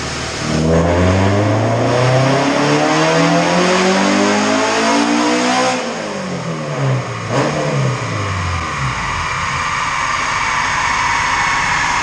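A loud, tuned all-motor Honda B-series engine revs hard on a dyno through rising pulls, dropping briefly before climbing again, with an aggressive, rasping exhaust throughout.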